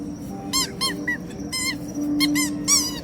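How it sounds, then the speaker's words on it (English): Squeaky shoes give several short, bright, high-pitched squeaks in quick bursts, close up, with a faint steady hum underneath. "Funny squeaky Squeaky shoes."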